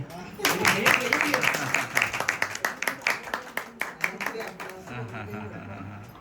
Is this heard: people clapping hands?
yes